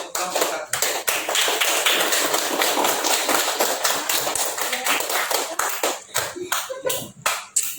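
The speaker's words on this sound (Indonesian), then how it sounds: "Silakan berikan aplaus untuk kelompok 1." An audience applauds a group with dense, loud clapping that carries on steadily and then thins into separate claps near the end.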